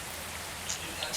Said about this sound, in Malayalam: മഴ പെയ്യുന്നു ഗൈസ്, മഴ പെയ്യുന്നു.